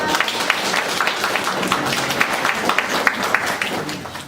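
A congregation at a Sunday church service claps in welcome for a visiting guest, a moderate crowd applause with distinct individual claps standing out across its whole length.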